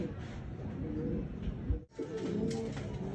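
Racing pigeon back at its loft after a derby race, soft cooing and bird sounds up close against a steady outdoor background hum, with no talking.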